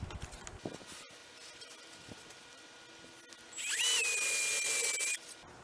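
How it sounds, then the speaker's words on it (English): A power drill whines briefly into wood, drilling a counterbore, after a few quiet clicks and handling knocks, the motor pitch rising then holding steady before stopping. "I'm going to do the counter bore"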